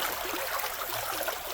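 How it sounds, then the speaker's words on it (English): A river in the Jamaican hills rushes along in a steady, broad wash of flowing water, constant and fairly close with no voices. "Jamaican river."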